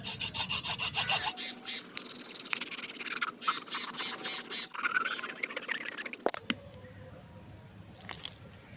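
A hacksaw blade rasps back and forth through a dry coconut shell being shaped into a coffee cup, with quick rhythmic strokes close up for about six seconds before the cutting stops.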